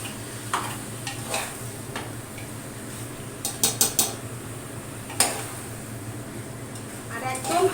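Meat being stirred in a covered pot over a high gas flame, with a soft sizzle beneath, scattered spoon scrapes, a quick run of bright metallic lid clinks, then another sharp clank.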